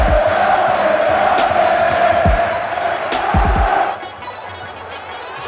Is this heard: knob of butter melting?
no